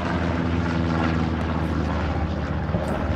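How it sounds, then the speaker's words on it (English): A recon plane in the Hell Let Loose video game drones loudly overhead, its propeller engine giving a steady, continuous hum through the whole moment. "That would be the recon plane"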